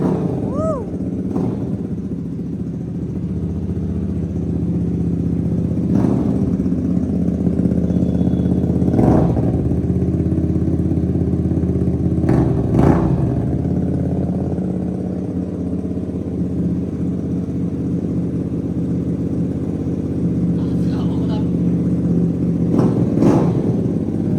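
A Hyosung Aquila motorcycle engine idles with a steady low rumble throughout, with someone talking over it and a few brief higher revs.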